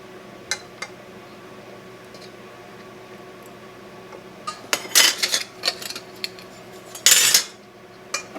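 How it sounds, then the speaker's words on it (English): Clean metal canning lids placed on glass jars, giving scattered light ticks and then a few sharper metallic clinks and clatters, close and with no talk over a quiet kitchen background. "And then we put our clean, washed lids on."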